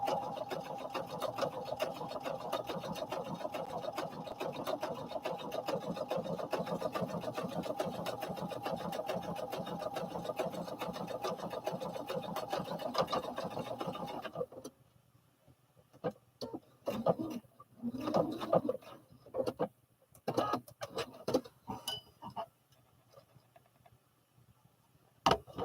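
A home sewing machine stitching overall fabric, a continuous rapid mechanical whirr for over half the time, then stopping into scattered short clicks, rustles and handling noises.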